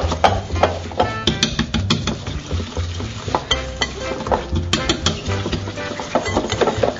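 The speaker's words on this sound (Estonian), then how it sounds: "Võin vahepeal proovida ise ka natukene segada." A whisk beats steadily through waffle batter of sugar and butter in a bowl, a continuous busy stirring swish with sharp clinks against the bowl's side, close and loud throughout.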